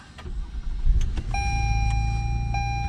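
A 2022 Lexus ES350 engine cranks briefly on push-button start and catches, settling into a steady low idle while a faint electronic chime tone sounds from the dash.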